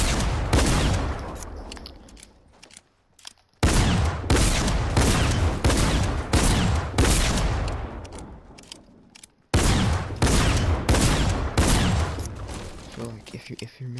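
Gunfire in the video game Fortnite, shooting through a breakable wall: loud, close bursts of rapid automatic fire come in several long volleys, separated by brief silent gaps.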